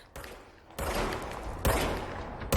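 Gunfire from a weapon in the video game Control comes as three sharp, loud shots spaced about a second apart, each a broadband burst with a short ringing tail.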